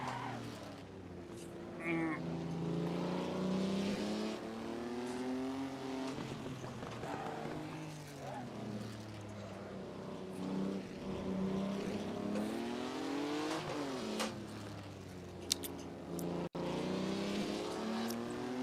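Historic race car engine in Assetto Corsa, driven around Monaco, revving continuously with rising and falling pitch through gear changes, loud and up close throughout with no talk.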